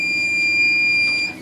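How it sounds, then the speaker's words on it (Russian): A goose egg incubator sounds its high-humidity alarm as a steady, loud, unbroken electronic tone that holds for over a second before dropping away. "Вот у нас инкубатор запищал"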